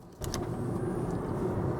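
After a brief click, an electric car, an XPENG G6 or Tesla Model Y, pulls away with a smooth, steady hum and faint whine building underneath, fairly quiet and with no engine rumble.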